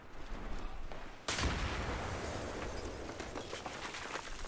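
Mortar fire in Battlefield 3 on the Grand Bazaar map: a sharp heavy impact blast hits early, followed by a sustained rumbling roar and scattered distant pops and gunfire crackle, no talk.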